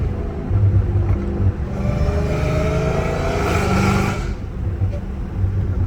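Dodge Hellcat Redeye engine revving, a steady loud rumble rising to a higher supercharger whine mid-way before settling back, with a voice speaking over it.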